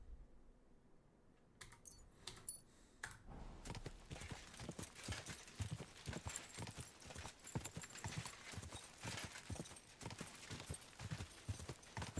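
In the video game Kingdom Come: Deliverance II, horse hooves clip-clop in a quick, steady rhythm that continues to the end, after a few scattered knocks at the start, with a faint low background underneath.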